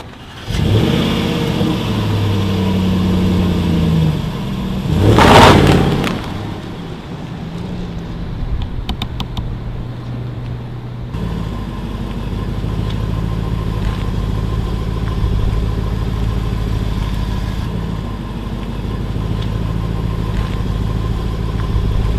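Car revving and pulling away, a loud close engine roar that swells and then settles into a steady rumble as the vehicle drives off.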